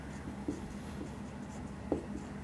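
Pen scratching on paper while working a Class 10 maths GST practice problem, faint and continuous with two slightly louder strokes, no talk.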